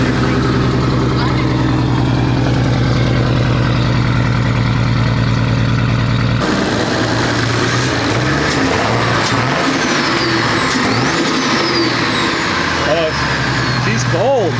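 Cold Atlas 4200 4.2-liter engine in a BMW E36 drift car runs at a steady idle, its low hum continuing for the whole stretch while several people talk over it.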